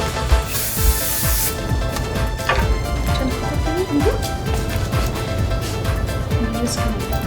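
An aerosol can hisses in one sharp spray burst near the start, followed by soft handling and rustling noises.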